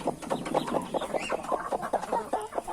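A hen clucks in a quick, steady series of soft, close-up clucks, with no talking.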